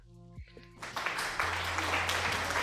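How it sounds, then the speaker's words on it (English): After a brief musical tone, a crowd's applause breaks out and continues as a dense, steady clatter of clapping with a low hum beneath. "Oh, you just don't know how much the applause means."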